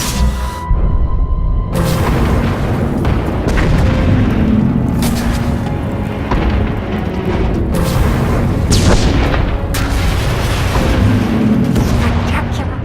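Sci-fi weapon fire and heavy explosions from the game Star Wars: The Old Republic, a loud series of booming blasts and bursts rolling one after another, with a voice heard among them.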